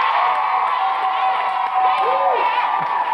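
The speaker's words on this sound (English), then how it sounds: "Give him a big round of applause, everybody." Young studio audience on a live Saturday-morning children's TV show cheers, whoops and claps for a quiz contestant, a loud, lively crowd din with excited shouts and voices mixed in.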